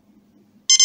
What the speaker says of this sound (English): You get the three beeps.